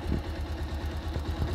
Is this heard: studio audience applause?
no